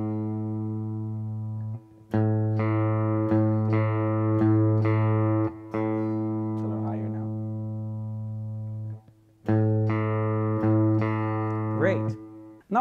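A guitar string is plucked repeatedly while another is adjusted, the pitch wavering and sliding into match, with short gaps between the sustained notes.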